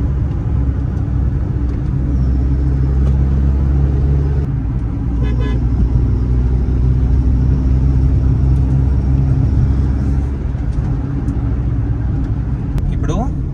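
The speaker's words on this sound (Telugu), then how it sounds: "మఫ్లర్ తీసేసినాం కదా కార్ నుంచి, కొంచెం బేసిక్ వస్తుంది అన్నమాట ఎగ్జాస్ట్ నోట్" Loud, steady low engine drone from a car running without its muffler, a deep continuous exhaust note with a slight shift around the midpoint and faint higher tones over the rumble.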